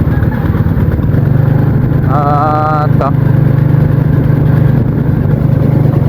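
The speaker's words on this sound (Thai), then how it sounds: "เจ้าบ่าวขี่รถไถไปแล้วเด้อบัด" A farm tractor carrying a groom in a village wedding procession, its engine chugging loud and steady close by, with a voice speaking over it and a brief tonal sound rising partway through.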